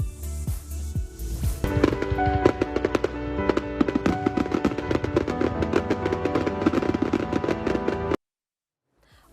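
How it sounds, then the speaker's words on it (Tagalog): A Fourth of July fireworks display in Utah, with a rapid barrage of sharp bangs and crackling pops bursting one after another, loud and busy before cutting abruptly to silence. "4th of July fireworks"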